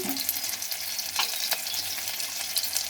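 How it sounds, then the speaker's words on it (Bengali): Green chillies and black cumin crackle and sizzle in hot oil as a tempering for a pumpkin chhokka, a steady bright hiss with a few louder spits, close by and with no talk. "এবার আমি কাঁচা লঙ্কা আর কালো জিরার ছোপ দেবো"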